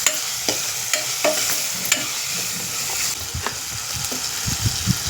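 Peanuts dropped into hot oil in a pan while making dal, a loud close sizzle with scattered crackles, clicks and stirring taps over a continuous frying hiss, and no speech.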